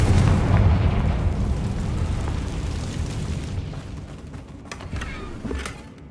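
Fiery Confringo spell blast in the Hogwarts Legacy video game: a loud, booming explosion that rumbles and slowly decays, followed by a few fainter crackling pops.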